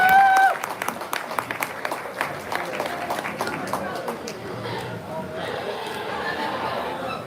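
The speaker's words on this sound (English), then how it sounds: "let's give all those seniors a big round of applause" Audience applause at a hog show, a dense run of clapping that starts strong and carries on steadily amid crowd chatter and an announcer's voice.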